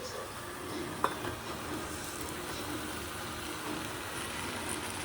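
Dry small prawns sizzling quietly in a pan as they are fried and stirred, a steady soft hiss with one brief clink of the utensil near the start.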